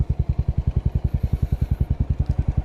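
Buell Blast motorcycle engine idling close up, heard as a fast, even, heavy thumping pulse with rattly vibration and no voices.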